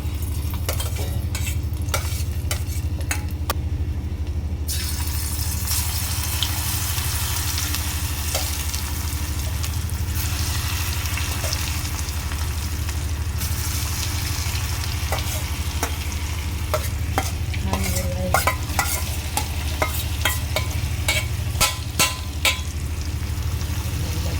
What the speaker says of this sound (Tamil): டீப் ஃப்ரை பண்ண எப்படி வருதுன்றது பார்ப்போம் போட்டு பார்க்கலாம்